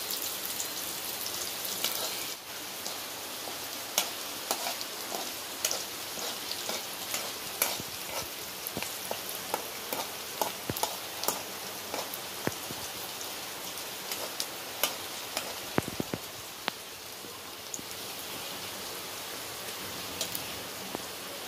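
Onion and garlic tempering fries in hot oil with a steady hiss, peppered with scattered pops and crackles that run throughout.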